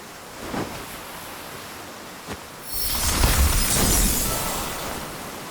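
An ice spell in the Octopath Traveler II video game forms an ice boat, rising as a loud rushing, crackling burst of shattering ice and wind-like noise that sustains after a couple of faint earlier hits.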